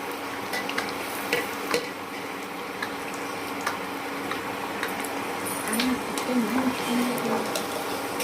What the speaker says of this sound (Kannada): ಕರ್ಗಡುಬು ಬಿಡ್ಬೇಕಾದ್ರೆ ನೋಡ್ಕೊಂಡ್ ಬಿಡ್ಬೇಕು, ಕೈಗೆಲ್ಲ ಎಣ್ಣೆ ಸಿಡಿಯುತ್ತೆ